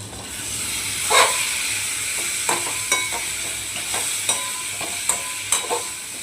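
A pan sizzles steadily after egg is poured in and sautéed, with intermittent utensil scrapes and taps cutting through the frying hiss; no speech.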